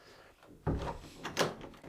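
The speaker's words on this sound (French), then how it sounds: "Fermons cette porte d'entrée." An old front door in an abandoned nineteenth-century house is pushed shut, giving a soft muffled thud followed by a second knock and a faint rattle, all fairly quiet.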